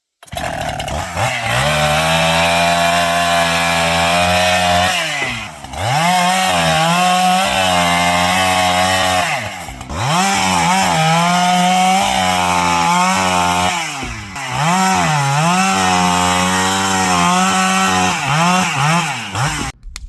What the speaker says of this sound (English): be sure to have a chainsaw handy